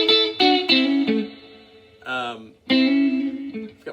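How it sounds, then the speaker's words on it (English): An electric guitar plays rockabilly double stops, two notes struck together, with the reverb turned up high: a few bright, ringing stabs and a short sliding phrase, each left to wash out in the echo. "I've got my reverb turned up really quite high. Double stops. 2 notes being played at the same time."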